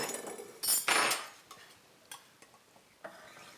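Knife and utensil cutting through an egg, bacon and sausage pull-apart bake, a couple of louder scraping strokes against the dish early on, then sparse light clinks and taps.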